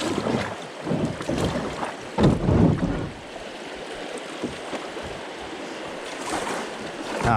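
Kayak paddling through a river, with moving water and wind buffeting the microphone and a louder surge of splashing midway.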